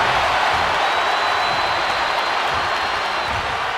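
Wrestling crowd in WWE 2K25 roars in a continuous, loud, broad wash of cheering and applause from an arena audience, with no distinct talk over it.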